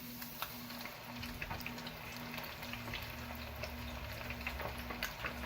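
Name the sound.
bluegill fish frying in oil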